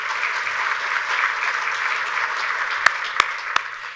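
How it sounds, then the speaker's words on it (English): Audience applause at a speech, a steady wash of many hands clapping for about four seconds, with a few sharper close claps near the end. "Give yourselves a round of applause for all you do."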